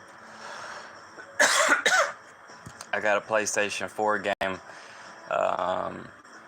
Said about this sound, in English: Don't cough.